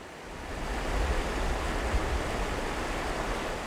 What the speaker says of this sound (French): Ce sont les geysers du massif volcanique d'Itache.